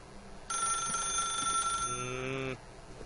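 A telephone rings in The Stanley Parable, a single bright electronic ring lasting about two seconds and shifting tone midway, loud and close against a quiet room background.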